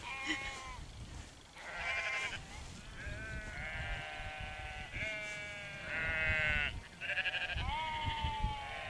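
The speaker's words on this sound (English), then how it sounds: "Sheep, they're flocking all around." Many sheep bleating outdoors in rural Subberthwaite, England, overlapping calls near and farther off, continuous over a low rumble of wind or movement.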